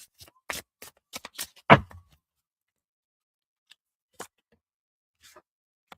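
Trust Your Vibes tarot cards riffle and slap together in a quick shuffle, a cluster of crisp papery bursts building to one louder flutter, followed by near silence with a couple of faint taps.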